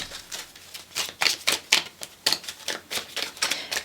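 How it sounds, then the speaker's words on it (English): Tarot cards being shuffled close by in quick repeated riffles, a papery series of crisp snaps and flutters in an irregular rhythm, with no voice over them. "you can see and hear there's a lot of shuffling going on"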